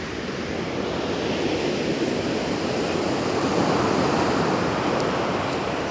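Sea waves break on the beach at Alanya in a continuous, loud roar of surf, with wind noise and no voices.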